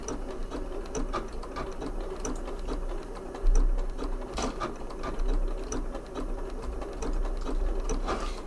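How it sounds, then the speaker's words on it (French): A Janome 9480 sewing machine stitches in a steady, fast mechanical whir, the needle clattering rhythmically close by, with the stitch width being narrowed as it sews and a brief louder burst partway through. "je vais m'amuser à diminuer la largeur de point en même temps que je couds"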